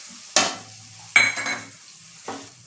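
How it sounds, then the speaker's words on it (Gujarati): Chopped tomato tipped into a pan of frying onion for kanda poha, giving a few soft sizzling bursts with stirring scrapes, three separate additions spaced apart, close and moderately loud, no talking. "ઝીણું સમારેલું ટમેટું છે જે 1 નંગ હતું તે એડ કરી લેશું."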